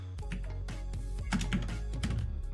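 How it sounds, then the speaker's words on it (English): Typing on a Windows keyboard connected to a Mac: a rapid, irregular run of close, crisp key clicks and clacks of varying loudness. "I'm using a Windows keyboard on a Mac, so I'm gonna be typing some funny characters now and again"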